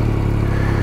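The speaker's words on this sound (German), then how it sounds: "Ich starte mal kurz den Motor" A Yamaha Tracer 9 GT motorcycle engine running close by, a steady low throbbing idle with a mechanical clatter, loud and alone.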